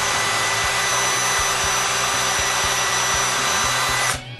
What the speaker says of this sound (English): When the 4th coat is dry, I drill the holes for the buttons and the nose.